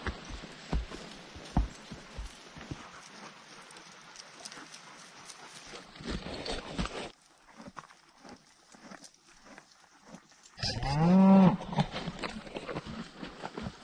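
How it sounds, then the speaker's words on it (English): Cattle on a mountain trail in bear country give one low, drawn-out moo near the end, following a stretch of rustling footsteps and hoof-like thuds. "These old cows have been with me for a mile."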